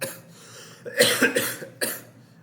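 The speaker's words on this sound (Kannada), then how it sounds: "ಯಾಕೋ ಕೆಮ್ಮು ಜಾಸ್ತಿ ಆಗೈತಿ" A man coughs several times in quick succession, close and fairly loud, with a short pause before a final cough in a quiet indoor setting.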